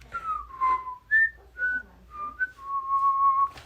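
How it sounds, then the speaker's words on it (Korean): A bright, tuneful whistle plays a short melody of sliding and held notes, close and clear, with soft breaths and rustle beneath. "걸음걸이에 맞춰 휘파람을 불었습니다"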